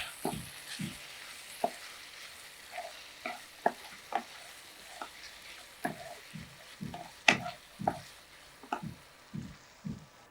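A spoon works through lemon paneer with salt and coriander leaves in a pan, giving a series of soft, irregular scraping and squishing strokes, quiet and close, with faint sizzling beneath and no talking.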